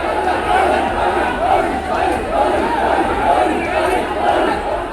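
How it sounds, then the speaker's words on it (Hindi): A large Muharram procession crowd chanting Ya Hussain slogans on a street, a loud, continuous roar of many voices in rhythmic waves close by. "इस पर भीड़ में शामिल लोग वहीं पर या हुसैन के नारे"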